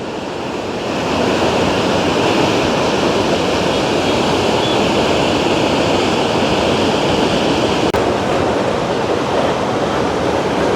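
Loud, steady roar of rushing water and spray, a dense continuous wash of noise close by with no voices.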